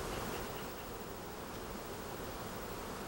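A dense, continuous buzz from a mass of honeybees in a colony, steady and fairly loud throughout with no pauses.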